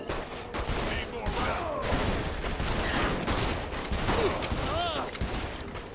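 Gunfire in Saints Row: The Third, a dense, busy volley of shots under a chaotic layer of other game sounds and voices, loud and continuous throughout.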